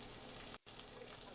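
Onions and celery sizzle in hot olive oil in a pan, a steady close hiss with a brief break partway through.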